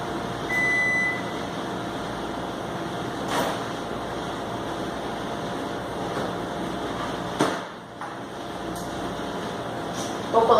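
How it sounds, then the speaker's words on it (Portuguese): A microwave oven runs for 10 seconds heating water, a steady low appliance hum throughout, with a couple of brief clicks and a dip near the end. "vamos colocar 10 segundos no micro-ondas"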